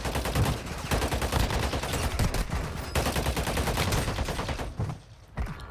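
Rapid continuous automatic gunfire from the mobile shooter game Warzone Mobile, a dense unbroken stream of shots with no reload pause, loud and close, dropping off briefly near the end before resuming.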